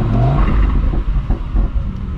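A 2022 Mercedes-AMG SL 63 V8 in Sport Plus mode revs loudly after starting, a deep rumbling roar with surging pulses heard close from inside the car with the window lowered.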